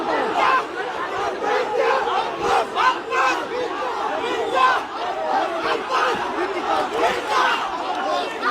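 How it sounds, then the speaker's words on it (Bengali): A dense, loud crowd surrounding candidate Mirza Abbas in Dhaka during an election campaign, many voices shouting rhythmic slogans together in a continuous, heated roar. "চতুর্দিকে সকলে কিন্তু ভুয়া ভুয়া স্লোগান দিচ্ছেন"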